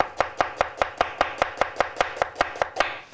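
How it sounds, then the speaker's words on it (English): A knife chops an onion on a cutting board in a quick, even rhythm of about fifteen crisp strikes, close and loud with no talking. "again, the same technique to get the smallest possible chopped onion this way"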